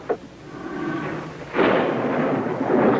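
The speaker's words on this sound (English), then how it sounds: "Looks like an electrical storm moving in." Thunder from an electrical storm rolls in, starting with a brief crack, then a low distant rumble, then a louder, broader roar that keeps building and does not fade before the end.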